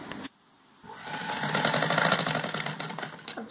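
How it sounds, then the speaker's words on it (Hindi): A sewing machine runs steadily and close up as it stitches lace onto a kurti, starting after a short pause and buzzing in a fast, even motor rhythm with no talking. "अब इसको हम पहले यहाँ से सिलाई लगाएंगे और दूसरी साइड से जब आएंगे तब हम इसको दबा देंगे यहाँ से और फिर उस तरफ को सिलाई लगाएंगे।"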